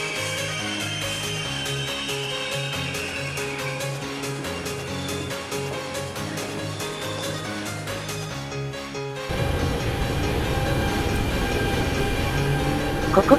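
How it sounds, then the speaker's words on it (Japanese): An Italian local train pulls into Venice Santa Lucia station, a loud steady rumble with rhythmic clacking and tonal hum, then a shift to broader rushing noise as the cars roll past close by. "ちょうど、各駅停車っぽい車両が、入線してきました。"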